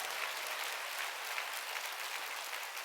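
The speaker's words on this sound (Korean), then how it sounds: "빨리 박수 치라요. 더 세게 치라고." Steady, dense applause from a church congregation at a Sunday worship service, clapping hard and continuously throughout without a break, with no voices rising above it.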